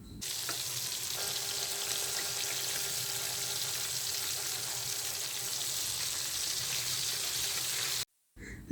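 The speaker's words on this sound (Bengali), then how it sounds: "আমি ভালো করে এপিঠ ওপিঠ উল্টিয়ে চিকেনগুলো ফ্রাই করে নিচ্ছি।" Marinated chicken pieces deep frying in hot oil and being turned over, giving a steady, dense sizzle that runs unbroken for about eight seconds and then cuts out abruptly.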